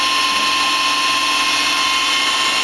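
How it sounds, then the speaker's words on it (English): A 1999 Star SV20 CNC Swiss lathe running, a loud steady mechanical whine with a fixed high tone over broad hiss, close and unchanging. "This is a video inspection of the Star SV20 CNC Swiss lathe."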